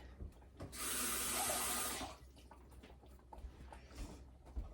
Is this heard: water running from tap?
yes